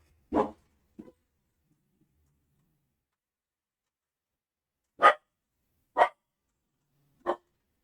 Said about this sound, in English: Dog heard the mailman.